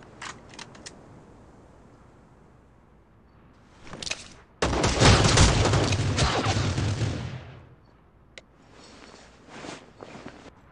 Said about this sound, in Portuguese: O cara tomou 3 tiros, não caiu, mano.